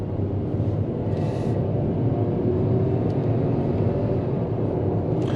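A 2021 Ford EcoSport SE FWD with a 1.0 liter engine drives and gathers speed, heard from the cabin as a steady, even road and engine rumble with no one talking.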